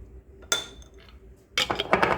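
A metal spoon clinks against a container while scooping custard powder in a home kitchen: one sharp clink, a quiet pause, then a busier run of scraping clinks and taps.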